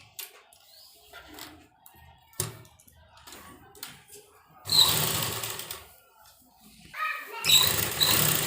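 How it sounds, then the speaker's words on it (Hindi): A sewing machine stitching a folded kurta hem rattles in two short bursts of rapid mechanical clatter, after quieter handling and tapping sounds as the fabric is folded. "हम इस तरह से इसको फोल्ड कर देंगे और एक सिलाई लगा देंगे"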